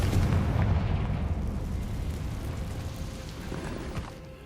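A Confringo spell explosion in the Hogwarts Legacy video game bursts with a booming, rumbling blast that slowly fades over a few seconds, with no talking.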